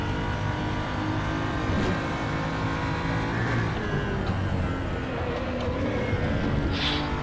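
A BMW GT3 race car engine in the RaceRoom racing game drones steadily and loudly throughout, with its pitch shifting as the car accelerates and changes gear, heard on its own with no voices.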